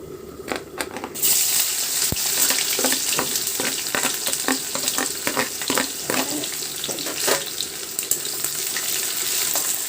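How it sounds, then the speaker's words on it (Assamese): Onions hit hot mustard oil for a mixed-fish charchari, giving a loud, steady sizzle and crackle that swells after the first second and holds with scattered pops and spatters, with no talk over it. "মোৰ মাছৰ চৰচৰি তেল গৰম হৈছে। ইয়াতে মই এতিয়া পিঁয়াজ দি দিম।"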